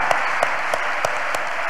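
Church congregation clapping together, a steady broadband patter of many hands with a few sharper accented claps recurring at a regular beat, fairly loud and close, with no talking over it.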